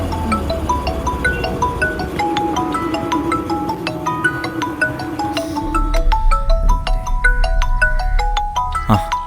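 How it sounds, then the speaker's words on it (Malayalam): A phone ringtone plays a bright, repeating electronic melody, loud and close, with a low rumble joining partway through. "ഫോൺ അടിക്കുന്നു"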